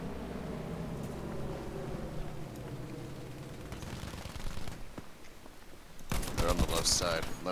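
Gunfire in the video game Battlefield V, a loud, dense burst of shots over game noise and rumble, with a harsher, brighter volley near the end.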